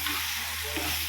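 Chili powder is stirred into dried fish curry sizzling in a clay pot, a continuous close sizzle and hiss with a scraping stir under a low steady hum.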